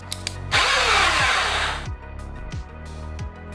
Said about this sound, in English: you'll hear the motors rev up and stop.